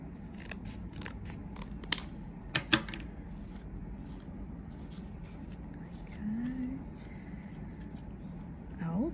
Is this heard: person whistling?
no